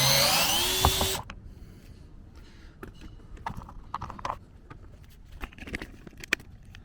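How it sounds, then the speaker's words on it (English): Screws being unscrewed by hand from a door panel on a third-generation Toyota Tacoma, quiet irregular ticks and clicks of metal and plastic, preceded by a brief loud burst of noise at the start. "go ahead and unscrew this one"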